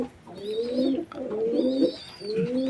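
A Giribaz pigeon, newly bought and laying its second egg, coos while being held in the hand, giving three close, clear rolling coo phrases.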